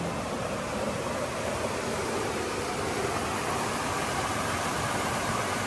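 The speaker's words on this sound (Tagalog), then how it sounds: "Grabe, sobrang nakaka-relax yung tunog ng tubig" Steady, continuous rush of flowing spring water, broadband and even throughout, with no voices.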